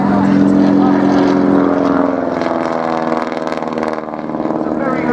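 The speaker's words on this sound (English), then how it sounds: "Now coming in front of us we have the Sopwith triplane and the B-2 replica." Sopwith triplane and a replica B-2 artillery observation biplane flying past at the Dunsfold Wings and Wheels airshow, a loud continuous propeller engine drone that swells and then eases slightly as they pass, with a commentator talking over it.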